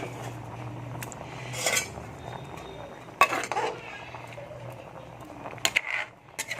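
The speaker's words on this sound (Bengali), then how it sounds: "একটা একটা করে দেখুন আমি ডিমগুলো দিয়ে দিচ্ছি" Boiled eggs dropped one by one into a pot of simmering chana dal, giving a few sharp clinks and knocks against the pot over a low bubbling hum, with someone talking quietly in between.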